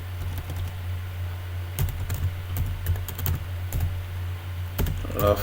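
Typing a name on a computer keyboard, irregular bursts of close key clicks over a steady low electrical hum, with short pauses between groups of keystrokes.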